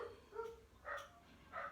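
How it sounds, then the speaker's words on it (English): A dog barks and yips in short muffled bursts, three spaced calls at a distance under a faint background hum. "this barking and crazy stuff going on"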